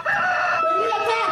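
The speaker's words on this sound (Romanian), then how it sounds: "Cocoșul iar de glas și se zbate." A rooster crows loudly and close by in one sustained, rising-then-falling call that fills the whole moment.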